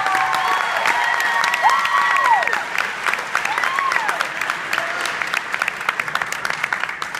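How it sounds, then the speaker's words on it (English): Loud, sustained applause from a school crowd, with sharp whistles and cheering rising over the steady clapping. "Can I please get a big round of applause for my two student council sponsors, Elton and Becca?"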